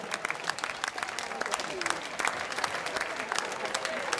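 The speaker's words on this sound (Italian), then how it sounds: "Voglio l'applauso" Crowd in an outdoor piazza applauds at a live comedy show, a dense, sustained burst of clapping with scattered sharper claps and light crowd noise throughout.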